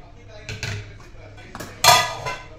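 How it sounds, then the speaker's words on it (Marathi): A metal lid goes onto a pot of buttermilk kadhi in a home kitchen, giving a few close clanks and scrapes, with the loudest clatter near the end. "तर मी आता हे ह्यावर मी झाकण ठेवते."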